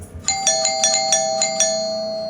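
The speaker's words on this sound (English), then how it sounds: "the doorbell rang continuously at like 1 or 2 in the morning." A doorbell chimes over and over in the early morning, six or seven bright ringing dings in quick succession, loud and close, with the final tone left to fade out.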